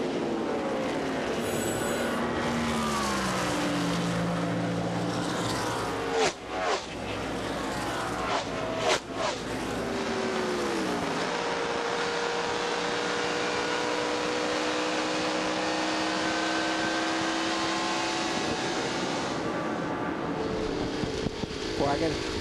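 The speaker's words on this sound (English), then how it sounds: "Let's take a listen to ARCA RE Series Sounds of Speed in Kentucky." Race cars from the 2003 ARCA RE/MAX Series at speed at Kentucky, producing a continuous loud engine roar with several whining passes that rise and fall in pitch as cars sweep by.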